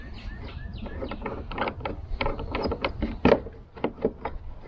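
A YakAttack Boomstick rod holder is loosened and slid out of its LockNLoad mount on a kayak: a close run of small clicking, ratcheting and scraping plastic-on-track sounds, irregular and moderately loud.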